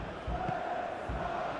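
Stadium crowd noise from a PES 21 football match simulation, Slavia Prague versus Barcelona in the Champions League, a steady roar with two brief low swells, carrying on without any voices.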